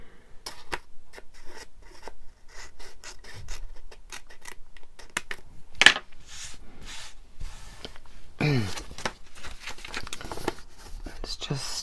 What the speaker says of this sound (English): I'm going to have to trim that up quite a lot, both sides